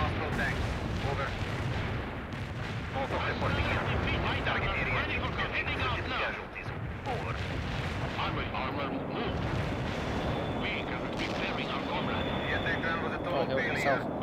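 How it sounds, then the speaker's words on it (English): Missile launches and artillery fire in the World in Conflict video game rumble as a continuous dense barrage of booms and explosions, loud and close, with radio-style voices talking over the battle. "Launching missile now."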